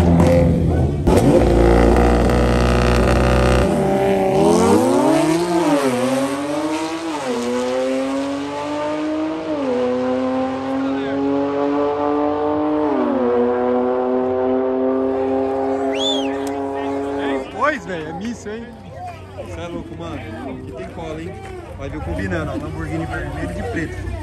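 A BMW M2 races past on a track, its engine revving hard through rising and falling gear changes, loud and close at first, then fading as it pulls away, with another car audible and a person talking over it.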